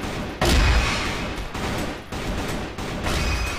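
Rapid bursts of gunfire from computer-controlled bots in the online shooter CrossFire, loud and close, with sustained volleys broken by brief gaps.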